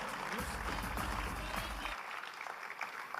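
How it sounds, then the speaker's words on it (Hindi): An audience claps loudly and steadily for about two seconds at a company gathering, the dense applause then thinning to scattered claps as it dies away. "मैं एक बार फिर चाहूंगा कि अपने लिए जोरदार तालियां बजाएं।"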